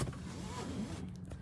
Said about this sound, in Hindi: करी गाड़ी हमने लॉक